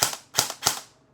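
An airsoft rifle with Noveske markings fires three sharp single shots in semi-auto at an even, brisk rhythm, close and fairly loud.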